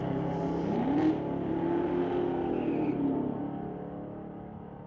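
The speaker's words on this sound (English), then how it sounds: "Wow, lots of power in that Chevy coupe taking off." A Chevy coupe launches at a street-legal drag racing event, its engine revving up in one long rising pull, loud at first and then fading as the car pulls away.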